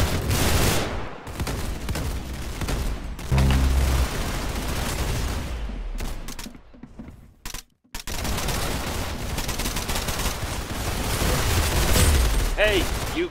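Gunfire from a standard match of the Roblox game Arsenal on the aircraft map, with dense rapid bursts of shots running almost continuously, a brief lull midway, and a talking voice mixed in.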